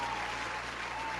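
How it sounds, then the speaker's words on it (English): Steady applause from a podcast audience, a short, dense burst of clapping at moderate level with no voices. "Make some noise and round of applause for yourselves."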